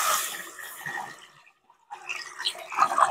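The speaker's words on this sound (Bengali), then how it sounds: "কড়াটা গরম হয়ে গেছে আমার। এবার আমি জল দিয়ে দেবো।" Water goes into a hot wok heated on a stove for a mutton curry with cauliflower, rushing in a gush that breaks for a brief silence, then a second hissing splash returns loud and close.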